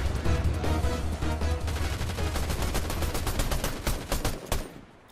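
Rapid bursts of automatic gunfire in a video game fill the whole stretch, loud and dense, with quick repeated shots tapering off near the end.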